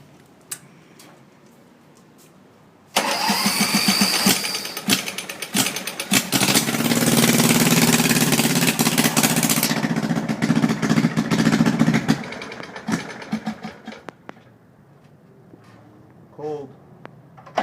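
Custom go-kart engine cranking over and firing up, then running loud and rough with a rattling, ticking idle for about ten seconds before dropping to quieter sputters, close by.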